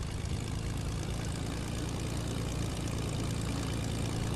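A propeller aircraft droning in a war video game, a constant dense engine roar with a low throbbing hum, loud and unbroken throughout with no talk.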